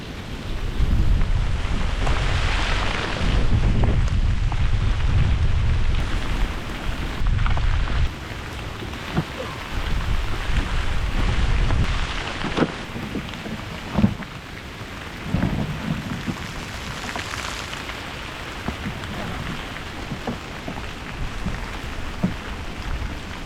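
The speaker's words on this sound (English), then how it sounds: "Oh yeah, it's coming down now. Oh, we're even getting hail." Heavy rain pours down over a river in the Appalachian Mountains, with rolling thunder and hail pattering on surfaces, a dense steady downpour that swells and eases with sharp impacts throughout.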